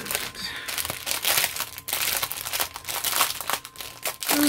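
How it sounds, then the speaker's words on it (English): Small plastic packaging bags holding diamond painting supplies crinkle and rustle continuously up close, loud and busy handling noise with no talking. "There is going to be lots of crinkling today because each of these is in their own little bag."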